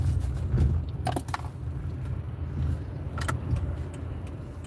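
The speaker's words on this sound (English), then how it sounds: "there's so many cars." Road traffic of many cars heading home near a parade route rumbles steadily as a low hum, with a few sharp rattles and clicks now and then and no voices.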